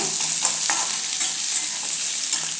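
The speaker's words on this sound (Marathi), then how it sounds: "नुसता याला फक्त थोडा मऊ करून घ्यायचा आहे कांद्याला।" Chopped onion softening in oil in a pan for chole: a steady, close sizzle with a few soft spoon-stirring scrapes through it, and no talking.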